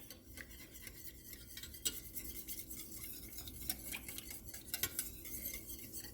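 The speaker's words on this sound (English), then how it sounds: "Just keep whisking." A whisk scrapes and taps steadily around a pan of gravy, a quiet, busy clatter of metal on metal with a few sharper clinks.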